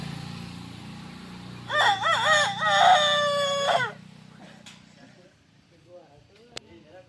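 During a Konkan shakti-tura folk performance in a village, a voice imitates a rooster's cock-a-doodle-doo in one long, loud, warbling call of about two seconds, followed by quieter background murmur and faint clicks.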